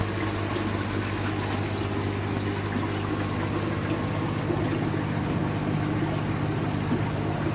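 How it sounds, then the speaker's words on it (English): Water flowing steadily into a pond along the Bakki River, a continuous broadband rush with a low hum underneath, unbroken and fairly close for the whole stretch. "Good flow to the pond."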